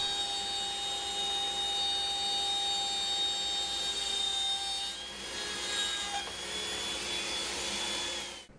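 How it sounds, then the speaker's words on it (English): A router with a 1/4 inch bit cuts all the way through wood around an insert hole, giving a steady, loud, continuous whine that dips briefly midway, with no talking. "switching from the 3/4 inch bit to a 1/4 inch bit, I'm going to cut again all the way around, but this time all the way through"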